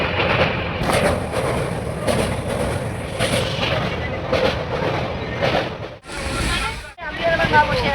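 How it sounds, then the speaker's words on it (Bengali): Kanchankanya Express passenger train running out of Sealdah station, heard from inside a carriage: continuous rumbling and clattering with periodic bursts and two sharp dropouts near the end, loud, with voices of people talking mixed in. "8:33 বাজে ঘুরতে আমাদের ট্রেন শিয়ালদা স্টেশন থেকে ছাড়লো"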